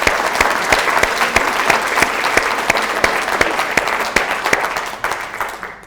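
A room of charity volunteers and members breaks into steady applause, dense continuous clapping close and loud throughout, tapering slightly at the very end with no talking over it.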